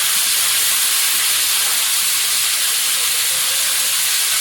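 Small home-grown taro pieces fry in a pan with salt and turmeric, giving a loud, steady, close sizzling hiss that runs unbroken throughout.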